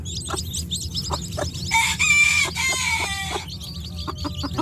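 Native chickens clucking close by, with a rooster-like crowing call in the middle and short repeated clucks around it on a farm.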